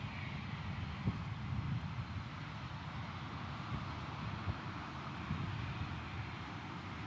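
A Southwest Airlines airliner arriving on runway 13 left at Dallas Love Field, heard as a steady, fairly distant low engine rumble that holds through the whole stretch with mild wind noise.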